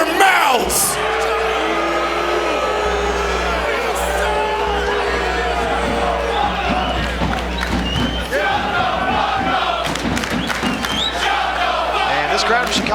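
A Chicago wrestling crowd shouts and jeers loudly and continuously at an event, a dense roar of yelling voices that never lets up.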